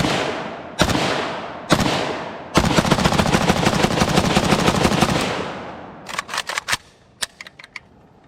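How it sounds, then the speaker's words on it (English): Shots from a KUSA KR-103 AK-pattern rifle: two single loud reports, then a rapid burst of shots lasting a few seconds, followed by scattered quick shots and echoing tails outdoors. "let's try a little bit more rapid fire for the second mag"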